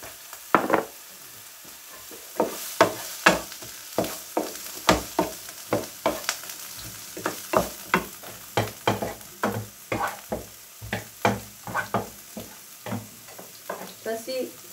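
Minced meat and onions frying in a home kitchen pan: a steady sizzle broken by many sharp clacks of stirring and scraping in an uneven rhythm, close and clear, with no talking.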